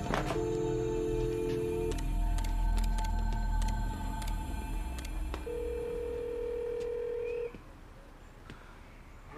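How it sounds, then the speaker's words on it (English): A telephone line rings out unanswered, with long steady electronic tones sounding in two separated bursts over a faint hum, then stopping into near silence. "How could a business not answer the phone?"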